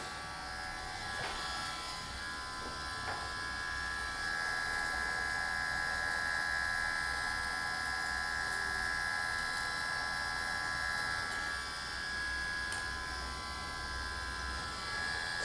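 A KUKU Maker machine running with a continuous, even electric hum and high whine, steady and moderately loud throughout with no pauses and no talking.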